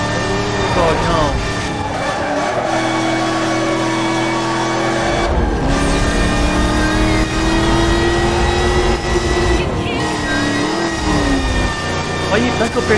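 A 1969 Dodge Charger R/T engine in a video game revs and drones loudly and continuously, its pitch rising and falling with gear changes, while people talk over it.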